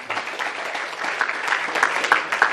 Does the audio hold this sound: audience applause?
yes